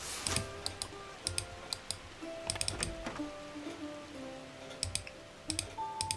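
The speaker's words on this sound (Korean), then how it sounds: "필요 없으니까 클릭, 클릭, 클릭." Computer mouse and keyboard clicks while playing the game Uncharted Waters, quick and close, some single and some in bursts, with a faint background hum and no talking.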